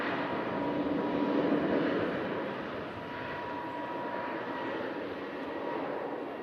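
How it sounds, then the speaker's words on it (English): A Learjet taxis out on an airport apron at evening, its jet engines giving a steady distant whine and rumble that swells slightly, then holds level, with no talk. "the Learjet that's taxiing out"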